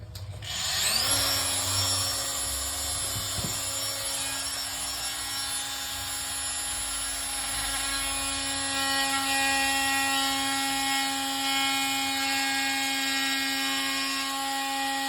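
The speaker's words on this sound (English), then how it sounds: "get the multi-tool out, get that out, see what we're left with there" An oscillating multi-tool cuts during kitchen wall tiling work, a steady high-pitched whine with strong tonal harmonics that starts after a second and runs continuously and loud throughout, with no talking.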